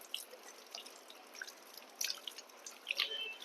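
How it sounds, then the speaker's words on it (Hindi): Tap water splashes and drips faintly while both hands are washed for wudu. The soft patter of droplets is uneven and close by, with no one talking. "दोनों हाथों को इस तरह से आपको धोना है।"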